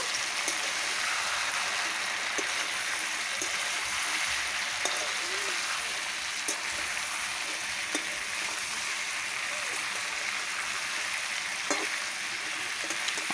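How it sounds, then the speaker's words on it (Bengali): Fried potatoes are stirred into a country chicken curry cooking over a wood fire, giving a steady bubbling sizzle with occasional faint scraping knocks spread through the stretch. "মাংসটা সম্পূর্ণ কষে নিয়ে দিয়ে দিলাম ভেজে রাখা আলু আলুটা দিয়ে একটু নাড়িয়ে নাড়িয়ে নেব"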